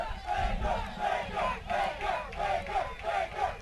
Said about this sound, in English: Listen to these Ida Baker fans. They are really fired up to be here